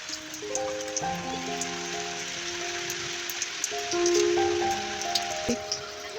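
Steady rain hisses on surfaces nearby, with voices and sustained melodic tones rising above the downpour.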